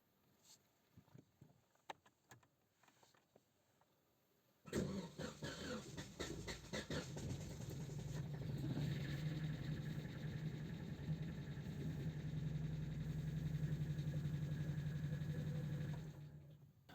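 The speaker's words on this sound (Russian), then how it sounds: "Сейчас покажу запуск мотора с неисправным клапаном." A car engine with a faulty valve cranks and catches after a stretch of quiet clicks and handling noises, then settles into a steady, fairly loud running hum that holds for about twelve seconds before cutting off.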